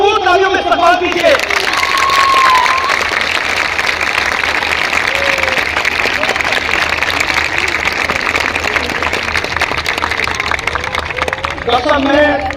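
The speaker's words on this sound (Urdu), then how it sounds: "ڈاکٹر ذاکر نائک صاحب کا بھرپور تالیوں میں استقبال کیجیے." Large crowd applauding to welcome Dr Zakir Naik at a public speech event in Karachi, steady dense clapping and crowd noise throughout, with a few voices and faint whistles rising over it.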